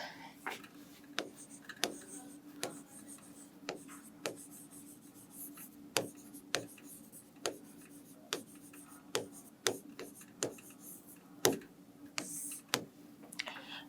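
Chalk or marker writing on a board during a biology class, heard as a steady run of sharp, quiet taps and strokes at an uneven pace over a low steady hum.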